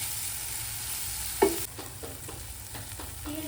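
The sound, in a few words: stirring and frying lentil tempering in a pan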